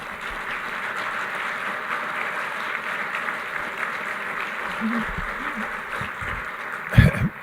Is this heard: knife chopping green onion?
no